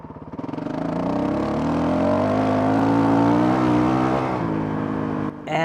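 A Honda CRF 450 RL dirt bike engine pulls steadily at low throttle in third gear, a continuous close, rising drone with clear firing harmonics, smooth rather than jerky, cutting off abruptly near the end.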